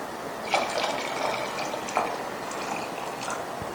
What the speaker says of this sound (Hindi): 1-2 गिलास जो है वो पानी बिस्मिल्लाह,